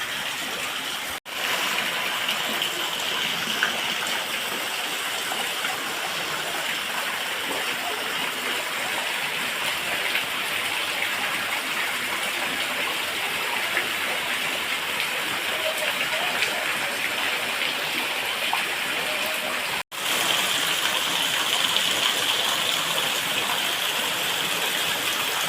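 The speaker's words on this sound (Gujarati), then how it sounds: "જુઓ ભાઈ, મેઘરાજા તૂટી પડ્યા છે અમારા મેથળા ગામની અંદર" Heavy unseasonal rain pours steadily over Methala village, a dense, even hiss of downpour on surfaces that holds at the same loudness throughout with no voices.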